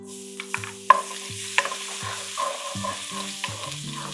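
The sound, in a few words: sauteing aromatics in olive oil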